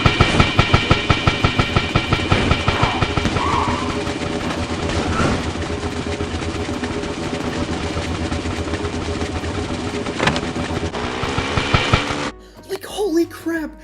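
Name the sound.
train chugging sound from video game Big Bang Racing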